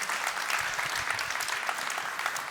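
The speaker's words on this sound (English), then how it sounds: "That's a applause, right?" An audience at a machine learning meetup in Berlin claps steadily for a speaker, a dense, even wash of applause throughout.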